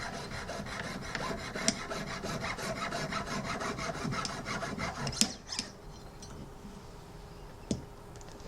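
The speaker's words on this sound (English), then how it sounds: "right now I'm cutting the spacer," A thick metal tube used as a jewelry rivet spacer is cut by hand with fast, steady rasping strokes up close. The strokes stop after about five seconds, followed by a few faint clicks and quiet.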